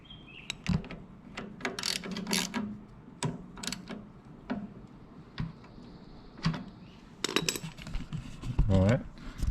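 A 10 mm wrench tightens the belt tensioner bolt on an Allett C24 reel mower, giving a series of quiet metallic ratcheting clicks and clinks scattered through the clip with brief handling noises close by.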